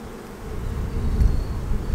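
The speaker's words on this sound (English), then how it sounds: "Look at all that bees and bee power right there." Honeybees buzz over a heavy hive frame in a congested colony close to swarming, a dense, continuous, droning hum that swells slightly louder over the span, with no talking.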